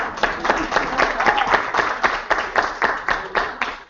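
A small group claps, a brisk patter of hands in an uneven rhythm, close by and moderately loud for several seconds.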